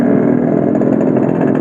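The stock engine of a Yamaha NMAX scooter runs at a steady idle, a close, even mechanical thrum with no revving, heard alone.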